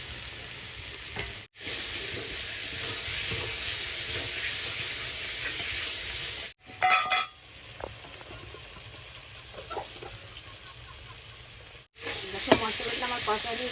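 Spice paste with tomatoes sizzles steadily in hot oil in a pan, a continuous close frying hiss broken by brief pauses and a few stirring clatters.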